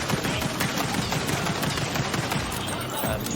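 Rapid, continuous gunfire from a pistol in the video game Borderlands 3, a dense, loud stream of shots with no pause.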